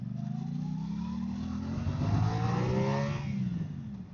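A motorcycle engine revs up during a ride, pitch climbing steadily then easing off, a continuous loud mid-range drone with no talk over it.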